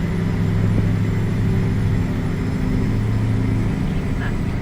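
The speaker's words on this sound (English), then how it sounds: "I like the sound of that engine." A steady, droning truck engine in American Truck Simulator hums continuously at a constant pitch, close and loud, with no voices over it.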